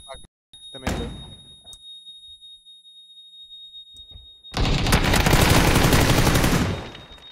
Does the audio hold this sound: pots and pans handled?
no